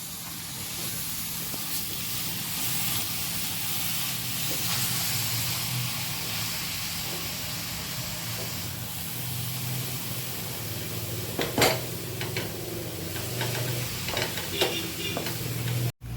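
Konkan-style jackfruit vegetable with dried fish sizzles steadily in a pan, stirred and tossed with several sharp scraping clacks of a spoon in the second half, close and moderately loud with no talking.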